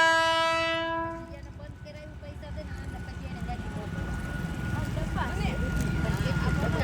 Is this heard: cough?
no